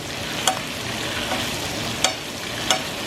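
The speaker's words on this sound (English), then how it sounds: "You take a spoonful of that delicious flavored butter and you just keep throwing it over the top." Steak in a hot pan being basted with spoonfuls of flavored butter, a steady close sizzle broken by three crisp splashes as the butter is spooned over the top.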